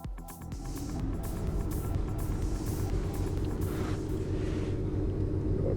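A GTB V12 car races a lighter, track-oriented Lamborghini LP560. A loud, continuous engine roar and rumble hold steady from start to finish, with no talking.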